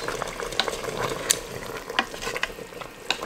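A spoon stirs chicken with beer, thyme, bay leaf and tomatoes in a pot, with sharp scraping knocks of the utensil against the pot over a soft background sizzle, with no voices.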